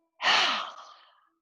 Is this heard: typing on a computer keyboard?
no